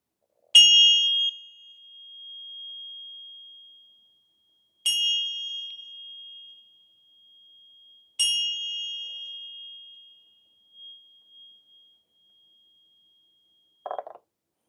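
A small bell struck on its rim gives three separate clear, ringing dings a few seconds apart. Each strike sustains and fades slowly in a quiet room, and a brief soft knock follows near the end.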